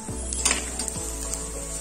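Soft, steady sizzle of ginger frying in a pan with onions, with a couple of faint stirring scrapes and clinks.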